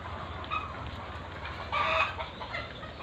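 Hens at a layer chicken farm cluck and murmur in a steady low chorus over a background hum, with a brief louder cluck from one bird midway.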